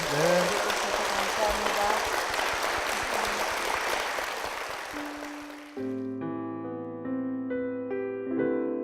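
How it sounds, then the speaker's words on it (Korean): A church congregation claps in blessing, a dense roar of applause for several seconds that fades out as sustained organ-like music chords take over. "축복의 박수 부탁드리겠습니다"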